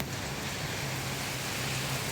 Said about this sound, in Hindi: बहुत तेज़ बारिश शुरू हो गई है अचानक ही